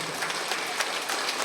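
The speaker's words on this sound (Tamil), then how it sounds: "இந்த கைத்தட்டல் ஒளி" Audience applause at a student honouring ceremony, a dense, even wash of clapping hands from a crowd, loud and continuous through the brief moment.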